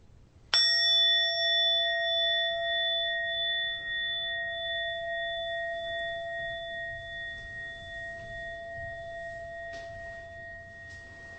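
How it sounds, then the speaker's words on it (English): A meditation bell is struck once, loud and close, then rings with a clear sustained tone that fades very slowly over many seconds in a quiet room. "until the bell rings."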